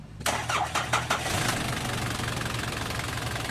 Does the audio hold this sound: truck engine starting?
yes